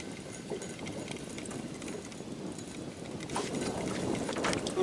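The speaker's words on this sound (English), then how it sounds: "Wind's picking up now." Gusting wind on a lake buffets the microphone during boat fishing, a steady broadband rush under faint water and boat noise that swells louder in the second half.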